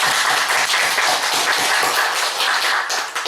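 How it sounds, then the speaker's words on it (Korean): A church congregation claps together during a sermon on the resurrection, a loud, dense burst of applause that holds steady before easing slightly at the end. "부활하신 주님을 박수합시다."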